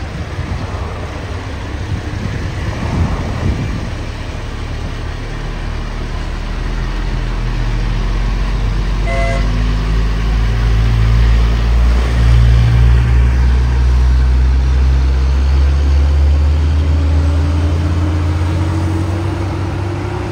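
A container trailer truck's diesel engine revs as the driver accelerates, a loud, steady low rumble that swells and holds, with a rising drone and no voices.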